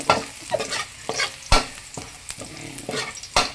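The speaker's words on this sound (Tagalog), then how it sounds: "Yan, lalagay na ang garlic. Kailangan lang natin yan medyo golden brown" Garlic fries in a pan as it browns, a soft continuous sizzle broken by sharp spatula scrapes and stirring knocks recurring roughly every half second to second, close and alone.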